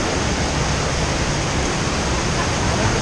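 Rushing water like a waterfall on the Kali River Rapids raft ride, a loud, continuous broadband roar filling the space close by with no break.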